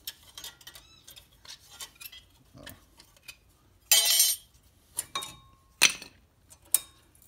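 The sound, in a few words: removing brake pads from Hyundai Sonata caliper, metal clinking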